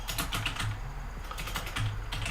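Rapid typing on a computer keyboard during a live stream, with a steady run of close clicks and keystrokes, no voices.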